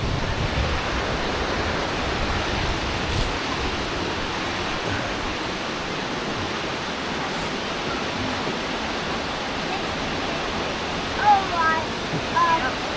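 The 75-foot Dry Falls waterfall in Highlands, North Carolina, roars as a steady, loud, broadband rush heard from close by, with a few faint voices and bird chirps near the end.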